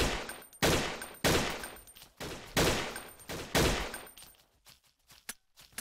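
Rapid automatic gunfire from shooting in the blocky shooter game Blockade 3D comes in about six loud, close bursts with short gaps between them, then fades to a few scattered shots.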